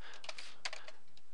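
Someone types a short command on a computer keyboard, a quick run of light, faint key clicks in uneven bursts against a quiet background.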